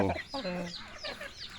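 Chickens cluck and squawk close by in short, overlapping bursts, with a busy farmyard feel and no clear speech.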